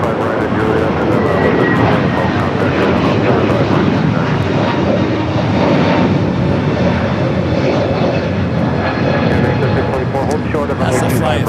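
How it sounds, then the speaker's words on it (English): Airbus A321neo airliner at Los Angeles airport, a loud, steady jet engine roar that fills the whole stretch without letting up, close and constant, with no voices over it. "That's the flight finally heading to Orlando, Florida. A different A321 Neo."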